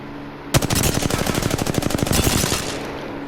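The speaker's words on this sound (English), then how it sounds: "with the R301, that gun is so versatile for me" R-301 assault rifle from Apex Legends firing one sustained rapid burst of roughly two seconds, loud and close, with no voices over it.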